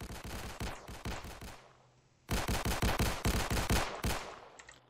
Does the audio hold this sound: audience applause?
no